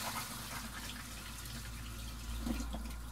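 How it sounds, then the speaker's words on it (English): Water poured into an RV black tank to flush it, a soft, steady splashing rush that continues throughout and swells slightly near the end, heard alone at low level. "then we'll flush it down with some water"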